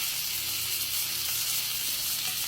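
Filet mignon sizzling in butter in a hot pan, a steady, bright crackling hiss with no break, fairly close and moderately loud, with no talking.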